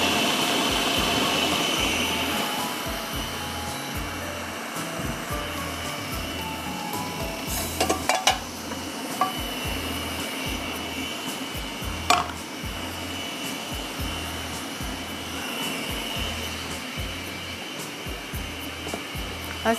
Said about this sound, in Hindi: थोड़ा सा दाल का दाना है तो मैं और पीस लेती हूँ